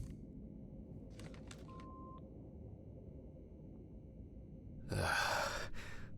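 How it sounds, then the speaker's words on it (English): Phone dialing in the video game Autopsy Simulator: a few short tonal beeps and a sustained dial tone early on, followed by a louder burst of ringing or line noise near the end, all over a steady low game ambience. "I'm calling Stephen."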